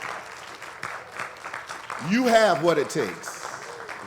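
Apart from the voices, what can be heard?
audience applause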